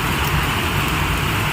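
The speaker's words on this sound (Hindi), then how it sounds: "यहाँ पे हो रही है बारिश, और खूब जोरदार हो रही है" Heavy monsoon rain pours down outdoors in a dense, loud, unbroken roar of close drops, with no talking.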